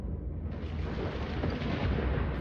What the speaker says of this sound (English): What's up with the red lightning?